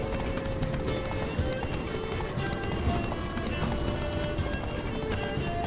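A horse gallops steadily in The Witcher 3, its rapid hoofbeats drumming close by in a continuous run, with someone talking over the hooves.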